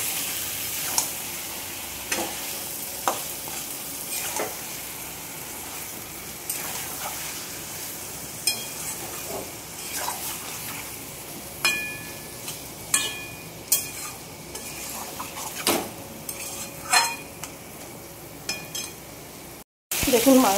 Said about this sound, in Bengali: চিকেনটা দিয়ে ভালোভাবে নাড়িয়ে মিশিয়ে নেব।